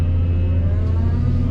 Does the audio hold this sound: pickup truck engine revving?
yes